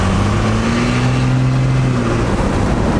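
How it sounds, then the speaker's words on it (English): A 12-valve Cummins diesel truck engine revs hard in a burnout, giving a loud, sustained roar with rising and falling tones for the whole three seconds. "we're gonna burn some tires"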